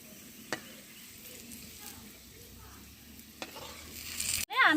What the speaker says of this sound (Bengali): আমি আলুগুলো ভেজে নিচ্ছি।